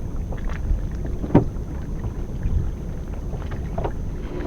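A sailboat motor sails across open water near a bridge, giving a steady low engine drone with wind buffeting the microphone and a few small knocks and splashes.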